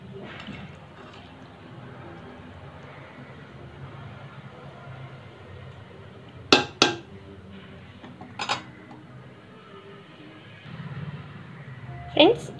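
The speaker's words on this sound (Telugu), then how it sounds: "ఇప్పుడు మనం దీన్ని ఒకసారి ఇలా మిక్స్ చేసేద్దాం" Soaked rice for sweet corn pulav is gently mixed in a pot: a low soft shuffle with a few sharp clinks of a spoon against the metal rim, under a person talking nearby.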